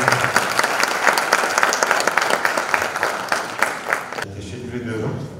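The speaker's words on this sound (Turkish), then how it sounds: "alkışlarınıza kürsüye almak istiyorum" An audience at a university veterinary faculty anniversary event applauds a speaker, dense steady clapping filling the room for about four seconds before it cuts off to quieter room sound.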